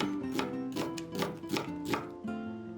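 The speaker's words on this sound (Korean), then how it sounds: "양파 반 개를 채 썰어 줍니다" Half an onion sliced into thin strips with a knife on a cutting board, giving a steady series of crisp, close chopping taps with no talking.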